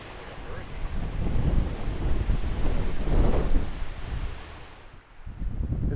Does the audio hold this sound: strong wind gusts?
yes